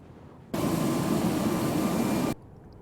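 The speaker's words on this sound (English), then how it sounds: "Oh, jet noises." A jet aircraft roars in a Vietnam War video game as a sudden loud burst of broadband noise that lasts nearly two seconds and then cuts off sharply, with no talk.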